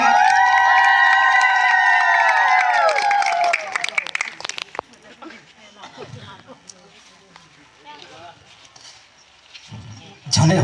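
Crowd clapping and cheering at an Adivasi federation gathering in Bargarh district, Odisha, loud at first with a whistle-like tone, then dropping to scattered claps and murmuring voices before a brief burst near the end.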